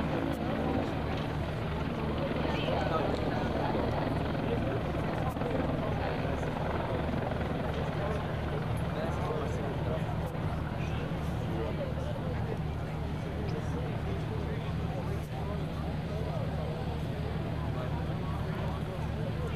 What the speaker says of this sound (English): As you can see, the helicopter is capable of sideways flight,